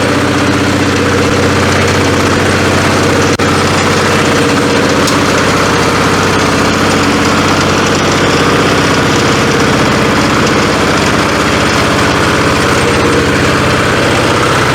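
A walk-behind tractor (motoblock) engine runs steadily at idle throughout, a loud, close, continuous mechanical drone with even vibration and no talk over it.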